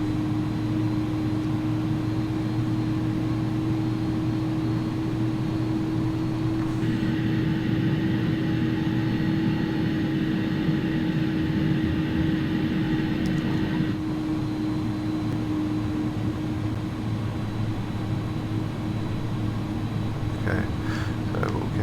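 Engines of an IniBuilds A300-600R airliner in the X-Plane 11 flight simulator spool up for takeoff on runway 08 right, a steady loud drone with a sustained tonal whine. An extra higher hum rises partway through and later drops away.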